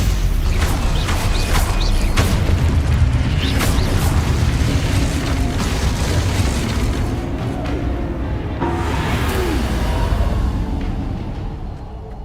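Combat in the Hogwarts Legacy video game with a Stupefy spell being cast, a loud continuous wash of booming impacts, magical whooshes and mechanical clatter throughout, with no clear speech.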